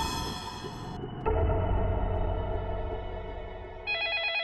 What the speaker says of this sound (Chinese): 哎呦，电话响了。